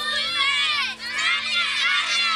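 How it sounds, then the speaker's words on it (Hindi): Schoolgirls in South Waziristan chant slogans together at a protest demanding education, a loud, dense crowd of young voices shouting continuously with a brief dip midway. "जनूबी वजीरिस्तान में स्कूल की बच्चियां नारे लगा रही हैं तालीम हासिल करने के लिए।"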